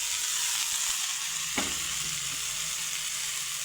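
Cumin, green chilli and amaranth greens fry and get stirred in a pan, a steady broadband sizzle running throughout with a single brief clatter of the spoon midway.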